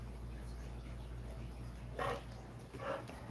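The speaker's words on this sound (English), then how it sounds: "Well, hazy doggy. You heavy breathing creeper." A dog breathes heavily indoors, two distinct bursts of huffing breath standing out close and brief over a steady low hum, with no speech over them.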